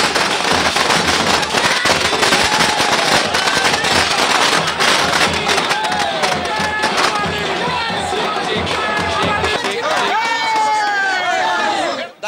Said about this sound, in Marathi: फटाके फोडून जल्लोष त्यांनी साजरा केलाय